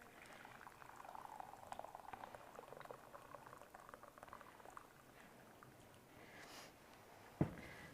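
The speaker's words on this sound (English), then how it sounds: "I'm just going to pour it there." Water is poured for steeping marjoram, a faint bubbling liquid splash that tapers into quieter trickling, with a single sharp clink near the end.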